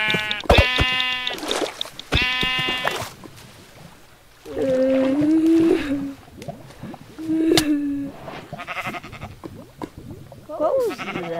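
Minecraft sheep bleat in several wavering, nasal cries, close and loud, separated by pauses, with quieter game sounds between the calls.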